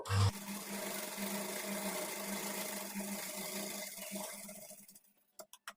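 Sewing machine running a continuous stitching pass along the edge of a blouse lining, a quiet, steady whirring that stops abruptly near the end, followed by a few handling clicks.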